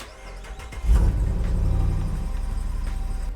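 A Jeep 392 Rubicon engine cranks and fires at once, settling into a loud, steady idle rumble that continues to the end with no one speaking.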